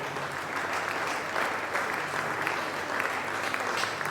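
Church congregation applauding in praise of the Lord, a dense sustained clapping from many hands filling the room.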